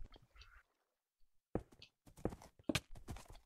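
Horse hooves in the Minecraft video game, during a battle on horseback: a few irregular, fairly close clopping thuds that cluster toward the end after a quiet start.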